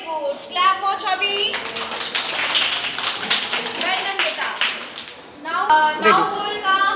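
A group of children claps together during a counting lesson with bottles. A burst of quick, dense clapping sits in the middle, with a child's and an adult's voices talking before and after it.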